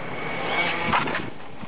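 A car passes nearby outdoors, its engine noise swelling to a broad peak near the middle before easing off, with no talk during the pass.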